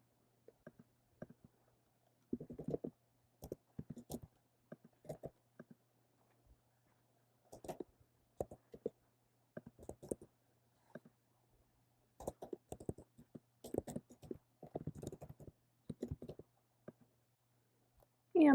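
Keys clicking on a computer keyboard while credit card details are typed into an online payment form, fast bursts of near, crisp clicks broken by short pauses, with no talk.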